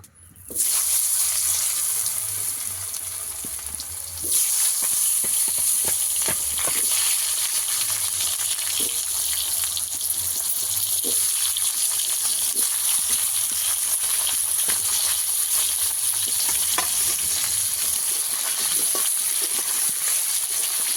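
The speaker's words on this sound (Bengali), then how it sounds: "আলুটাকে একটু ভালো করে ভেজে নেব" Potato pieces frying in oil in a pan, a loud, steady close sizzle with occasional sharp spatters and light stirring clicks, briefly louder as more go in.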